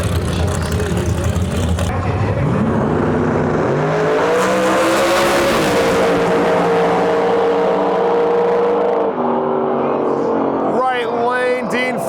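Drag race cars in the Limited 235 final at a Lights Out 16 event roar loudly and continuously, engines building in pitch as they launch and run, with crowd noise and a commentator's voice over the top.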